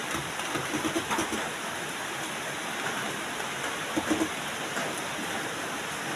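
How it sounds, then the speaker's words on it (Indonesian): Steady video game rain hisses evenly throughout, with a few faint chirps or drips rising briefly above the dense wash of falling water. "tidak ada suara selain suara-suara hujan"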